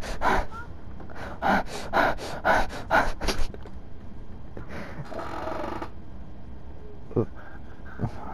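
Someone breathes heavily in a rapid run of loud, rhythmic gasping breaths close to a microphone, followed by a longer hissing exhale and a few scattered breaths, with no talk.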